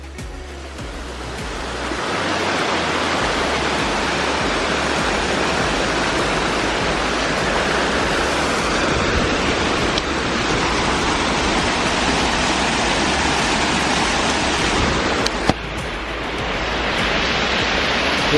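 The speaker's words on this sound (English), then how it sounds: "I just heard the creek" Tuscarora Creek rushes loudly and steadily, a broad continuous roar of fast water close by, with no voices.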